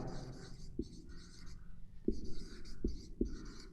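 A definition of a row matrix being written out: pen or chalk strokes scratch in short bursts with a few firm taps, close and fairly quiet in a hushed room.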